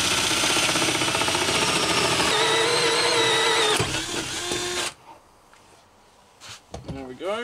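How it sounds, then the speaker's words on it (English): A power drill whines steadily and loudly for several seconds while boring a hole in a Citroen Relay camper van, then cuts out, followed by a quiet pause and brief handling sounds. "I need to drill a hole."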